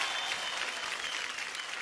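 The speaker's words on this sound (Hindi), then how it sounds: "जोरदार तालियां होंगी।" Steady applause from a singing-competition audience for a contestant, dense and continuous clapping at moderate level throughout, with no voices over it.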